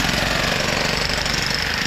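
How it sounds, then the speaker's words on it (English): A jackhammer pounds away at concrete during restoration work, a loud steady rapid hammering that runs nonstop with heavy machine noise and no voices. "Jackhammer's at work, look."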